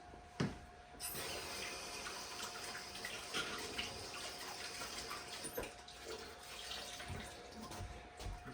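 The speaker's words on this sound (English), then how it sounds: "Let me wash my hands." Tap water runs in a steady, continuous rush while hands are washed at a kitchen sink during Cajun-style pork chop preparation, close by and with no talking.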